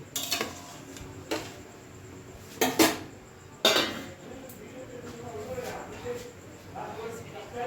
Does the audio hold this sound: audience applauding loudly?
no